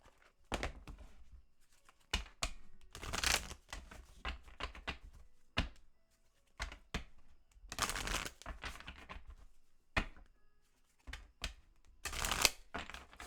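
A deck of oracle cards is shuffled by hand in a series of close, crisp riffles and flutters, the bursts broken by brief pauses and soft taps, with no talking.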